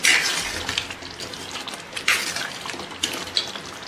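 A spoon stirs dahi aloo bhaji, a potato curry in a yogurt base, in a pan. Scraping swishes alternate with a few sharp metallic clinks, close and fairly loud, with no talking.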